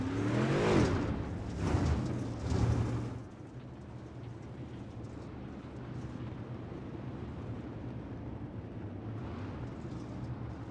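Super late model race cars at Fairbury in a sim racing game: several engine roars and revs sweep past up close at first, then fade to a low, steady drone of cars farther away.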